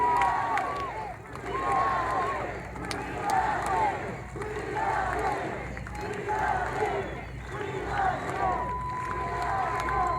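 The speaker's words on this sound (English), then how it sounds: "Hell of a crowd." Large crowd at a political rally, cheering and shouting in rolling waves that swell and recede, a loud, dense roar of many voices filling the space, with chants rising above it.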